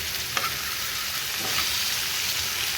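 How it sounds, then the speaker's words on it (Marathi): Fish fries in a pan with a dense, continuous hiss and sizzle that stays fairly loud throughout, broken only by a faint click of a utensil. "आपला मच्छी मस्त फ्राय झालेली आहे"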